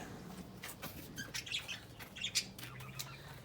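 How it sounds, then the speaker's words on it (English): Pet budgies in a backyard cage, several soft chirps and tweets scattered through the clip with light wing flutters, faint and fairly distant. "God even knows about what the budgies are doing in the cage in our backyard"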